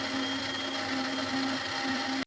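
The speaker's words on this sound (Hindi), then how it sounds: "और इसे मस्त घुर घुर करके पीस लेंगे" An electric mixer grinder whirs steadily as it blends aloe vera pulp in its jar, a continuous close motor drone with no talk, cutting off abruptly at the end.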